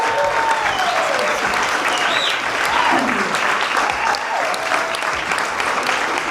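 Audience at a Women of the Year ceremony applauding spouses, dense sustained clapping from a crowd with a few faint voices and cheers mixed in.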